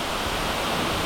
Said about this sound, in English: This is the best waterfall I've seen all day.